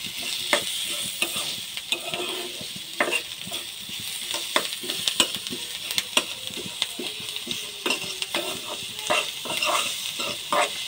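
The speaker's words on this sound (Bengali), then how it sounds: "পেঁয়াজ, রসুন, মরিচ, হলুদ, মরিচের গুঁড়া, হলুদের গুঁড়া, মরিচের গুঁড়া, লবণ পরিমাণ মতো দিয়ে একটু নাড়াচাড়া করলাম।" Onion, garlic, chili and turmeric sizzling in a frying pan while being stirred, steady crackling fry under frequent scraping and tapping of a utensil against the pan.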